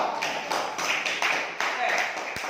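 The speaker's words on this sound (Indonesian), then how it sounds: "Tepuk tangan untuk perwakilan kelompok 2." Classroom students clap for a group representative, an uneven patter of hand claps with one sharper tap near the end, fairly close and loud, with some voices mixed in.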